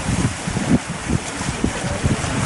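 A sailboat motors along under engine power at sea, a steady low droning hum blended with rushing water and wind buffeting the microphone, without any voices.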